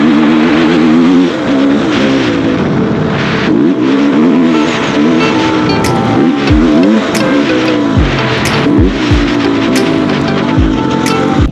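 A KTM electric enduro motorbike rides around a dirt circuit, its loud whirring motor rising and falling as it passes close by, with low wind buffeting and thumps throughout.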